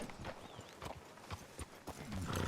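Horse hooves clip-clop along a town street in the Red Dead Redemption 2 video game, a steady walking rhythm of distinct close thuds over low ambient noise.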